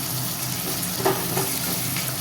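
Prawns frying with onions in a pan give a steady, close sizzle, with a couple of brief stirring scrapes near the middle.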